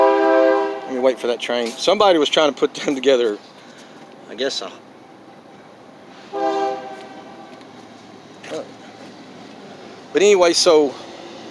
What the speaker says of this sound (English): Let me wait for that train.